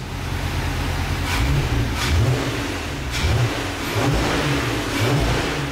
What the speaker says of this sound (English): so just chuck a jump pack on it and just start it up